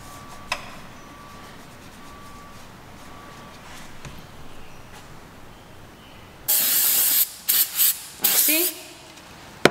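Brake cleaner is sprayed around a Nissan VQ engine block: a quiet workshop stretch gives way to several loud, close hissing bursts of varying length near the end.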